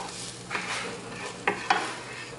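A spoon stirs yellow mustard and ketchup through a snack mixture in a bowl for a game day recipe, with soft scraping and a couple of sharp clinks against the bowl's side.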